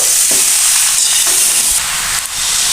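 Cinnamon pieces and cracked cardamom being stirred in hot oil in a pan while making sweet-sour-spicy olive pickle, a loud continuous sizzling hiss with faint scraping strokes underneath.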